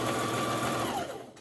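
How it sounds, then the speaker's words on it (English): A domestic sewing machine stitching fabric for a hooded mask, its motor giving a steady close hum that winds down and stops near the end. "Usually your sewing machine should feed it too and help you keep the material going"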